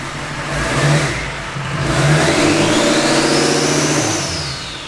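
A diesel engine with its stock turbo revs in a K20 truck fitted with a Duramax swap. It rumbles loud and close, rising and falling twice, while a turbo whine climbs and sweeps back down.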